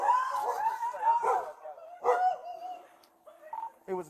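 A puppy barks and yips in short bursts during a tense police encounter, the sounds mixed with agitated voices.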